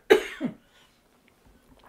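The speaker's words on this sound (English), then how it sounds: "Excuse me, I'm going to cough." A single sharp cough, close and loud, followed by a softer trailing cough, then near silence with faint small noises.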